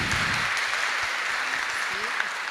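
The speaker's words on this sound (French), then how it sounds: "applaudissez haut et fort Madame Maïssa Ma'amr" An audience applauds a guest speaker at a young women entrepreneurs' club event with a continuous wash of clapping that holds steady throughout, and low voices murmur faintly underneath.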